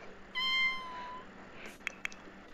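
A cat in The Sims 4 gives one clear meow with a rising, harmonic tone, followed by a few faint clicks and rustles in a quiet background.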